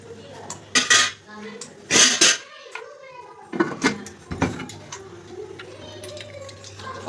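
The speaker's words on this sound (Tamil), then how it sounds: "மூடி போட்டுக்கலாம்." Metal cookware clanks sharply a few times, a lid clattering onto a pot of white chickpea curry, followed by quieter rattles and faint kitchen noise.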